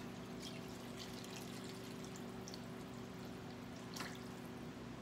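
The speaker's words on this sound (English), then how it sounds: "And I'm going to just add my water to this." Water pours from a gallon pitcher onto beans and meat in a pot for bean goulash, a steady soft splashing stream heard close and alone for several seconds.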